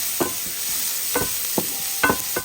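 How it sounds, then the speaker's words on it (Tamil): Chopped onions sauté in a pan for dry fish gravy, a soft steady sizzle broken by a few brief scraping stirs, close and fairly quiet, no voices. "பொடியை நறுக்கி வச்ச வெங்காயத்தை சேர்த்து வதக்குறோம்."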